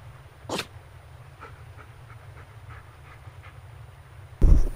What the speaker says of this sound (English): I think my dog just sneezed.